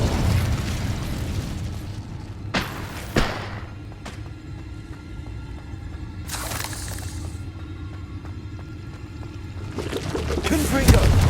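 A fiery Incendio spell in Hogwarts Legacy: several sharp crackling bursts and flares across the span, with a swelling roar building toward the end amid other combat effects.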